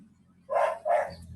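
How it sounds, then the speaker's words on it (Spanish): A neighbour's dog barks twice in quick succession, heard from a moderate distance over a quiet room hum during an online biochemistry lecture. "El perro del vecino."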